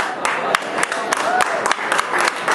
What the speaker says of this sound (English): Those people were paid to applaud for me.